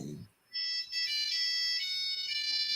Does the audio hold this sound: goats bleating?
no